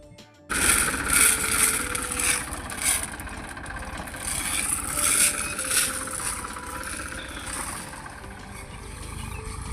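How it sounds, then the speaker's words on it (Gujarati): A tractor engine runs on a farm during a groundnut harvest, a loud, steady mechanical drone that starts abruptly and holds nearby with slight surges throughout. "ટ્રેક્ટર આવી ગયું"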